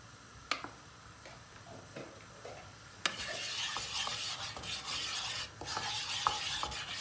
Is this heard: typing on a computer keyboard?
no